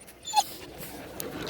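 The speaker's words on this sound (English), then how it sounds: "she just wants to bark at people" A dog whimpers with a short, high yip near the start, then faint whining and restless movement continue at low level in an outdoor setting with other dogs nearby.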